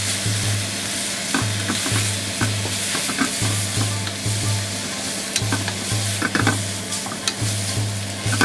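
Yakisoba noodles fry in lard on a griddle, a dense steady sizzle under repeated scraping and tapping of metal spatulas in an uneven rhythm, close and loud, with no talk.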